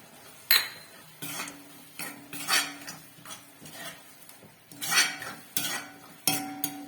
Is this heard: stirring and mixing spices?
yes